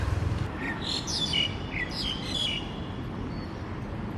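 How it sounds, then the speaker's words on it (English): A small bird chirps repeatedly in quick, bright bursts over a constant background hiss of insects. "That's a loud bird for a small little guy."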